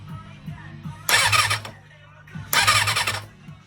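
A Kawasaki ZXR400 motorcycle engine turned over by hand twice, each time a short, close whirring rush of cranking noise lasting about half a second, separated by quiet with a faint low hum.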